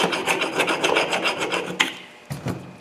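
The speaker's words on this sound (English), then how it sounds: "Clean that rust off." A rusty rear brake caliper bracket on a 2007 Toyota Camry is scrubbed clean, giving a fast rhythmic rasping, about a dozen close, loud strokes, then a pause and a couple of final scrapes.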